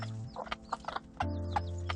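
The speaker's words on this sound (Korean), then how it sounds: "병아리들에게 모이를 주기 위해 닭장으로 왔다." Hens and young chicks cluck and peep softly in a coop at feeding time, short scattered calls over a low steady hum.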